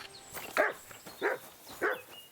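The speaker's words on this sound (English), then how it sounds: "Oh, it is a wild dog. It is going to attack me." A wild dog in the medieval open-world game Kingdom Come: Deliverance II gives three evenly spaced barks, each a short gruff woof, moderately loud over a faint ambient game background.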